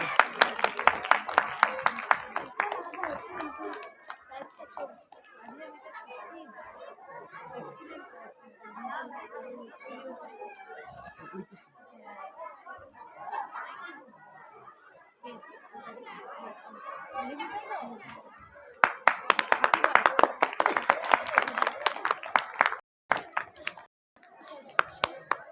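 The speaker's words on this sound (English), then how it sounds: "Please clap your hand, please." Audience at a school New Year event clapping in bursts, loud at the start and again near the end, with a steady hum of crowd chatter and talk between the rounds of applause.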